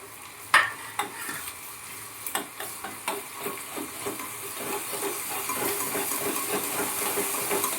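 Golden-browned onions fry in a pan for a home-cooked egg curry while a spoon stirs in ginger-garlic paste, with soft sizzling building steadily under a series of sharp scraping taps, close and fairly quiet.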